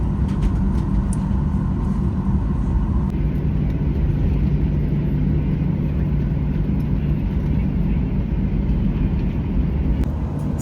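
An airplane accelerates down the runway for takeoff, heard from inside the cabin as a loud, steady engine roar and rumble that shifts tone partway through.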